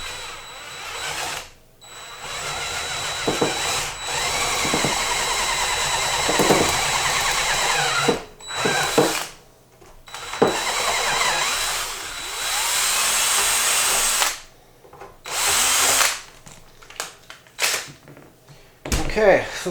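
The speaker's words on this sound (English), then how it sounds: "I'm going to drill this bottom one here without the vacuum" A power drill bores holes in the case of a 12-volt RCI/Galaxy Big Box CB radio base, whirring in several bursts of varying length with pauses between them, close by, while a person talks in between.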